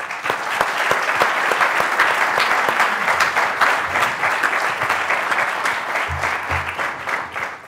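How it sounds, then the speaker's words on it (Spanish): Audience applause at a 20th-anniversary ceremony for the EOI business school, with dense, steady clapping from a large crowd that holds loud and even for the whole stretch, with no voices over it. "Yo quería un aplauso para ellos, no para mí."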